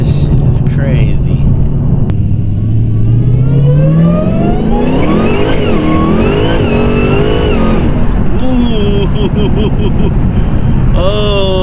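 A 1000 HP Dodge Hellcat accelerating hard under full throttle, its engine note climbing in loud rising sweeps with shifts between them, close and dominant, with someone talking over it.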